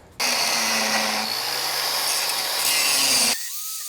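A steady, loud power-saw whine cuts through old metal fuel fittings on a buggy for about three seconds, then stops abruptly.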